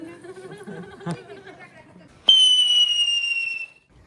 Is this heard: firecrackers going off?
yes